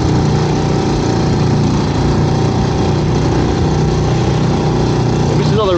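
A dinghy's outboard motor runs at a steady, loud drone throughout, close by and unbroken, during a dawn crab-pot trip at sea.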